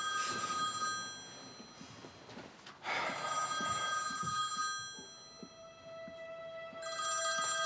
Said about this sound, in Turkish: Pars, Pars için arıyor olabilir